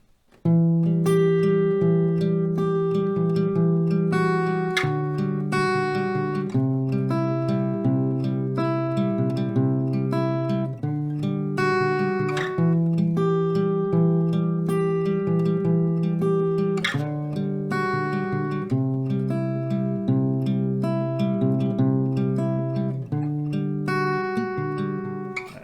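An acoustic guitar plays a melody at a quicker pace, close and steady, with plucked notes ringing over low chord tones in a continuous run without pauses or speech.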